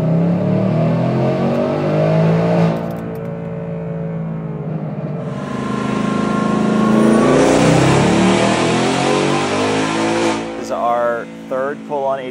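Supercharged 2024 Ford Mustang on 87 octane fuel with a fuel additive, its engine roaring loudly and climbing in pitch through a fifth gear pull, with a brief easing and a shift near the end, under some talk.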